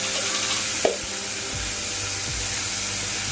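Coriander powder hits a hot pan of dal tempering with garlic and green chilli over low heat, giving a steady close sizzle with a few soft scraping stir strokes and one brief clink.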